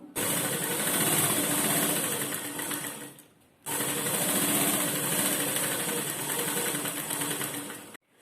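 Sewing machine running fast and steadily while stitching a long seam through a lined blouse, a loud, continuous whirring hum that stops briefly for about half a second and then resumes at the same pace.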